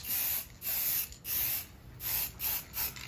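Six short bursts of spray paint from a spray can, laying gloss appliance white over a repair on a windsurf board, each hiss close and loud with brief gaps between them.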